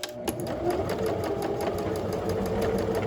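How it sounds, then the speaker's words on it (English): Sewing machine stitching and back tacking a seam at a thumbhole, a fast steady mechanical chatter of needle strokes, close and continuous for a few seconds. "Just back tacking where I'm going to stop."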